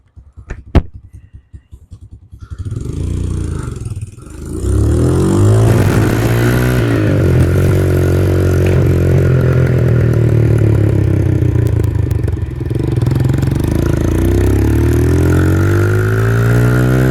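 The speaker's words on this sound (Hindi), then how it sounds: "फिर उसको जरा एग्जॉस्ट की साउंड दे" A newly added motorcycle's exhaust is revved hard, rising from a few clattery blips into a loud sustained roar with swelling and dipping engine pitch, close by and alone.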